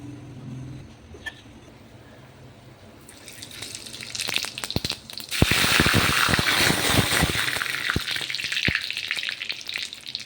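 Lentil dal bubbling and splattering in a pot on a gas stove, starting as a quiet hiss and then bursting into loud, dense crackling spits with sharp pops that carry on to the end.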